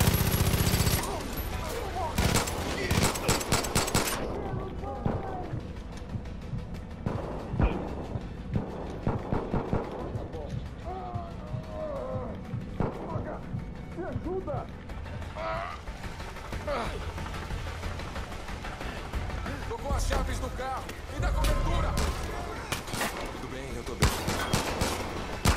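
Gunfire in the video game Far Cry 5, with sharp bursts of automatic fire and scattered single shots over nearly half a minute of chaotic combat, while players talk throughout.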